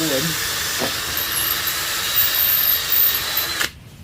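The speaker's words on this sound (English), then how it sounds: "go ahead and just drill the 2 holes, being careful obviously not to have my hand on the opposite side" A steady, continuous power drill whine runs for several seconds boring through wood to repair a dethatching rake, then abruptly stops as the bit breaks through.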